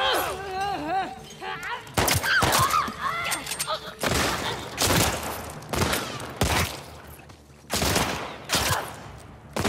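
Gunfire in The Last of Us Part II, repeated loud bursts of shots fired in rapid clusters, with game music and effects between them and some speech-like sound mixed in.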